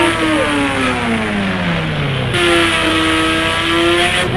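A motorbike engine in the video game Indian Bike Driving 3D drones loudly and continuously, its pitch sliding down as it runs, then jumping back up into a high steady whine after a gear change.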